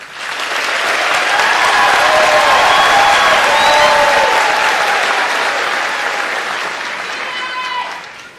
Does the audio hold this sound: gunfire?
no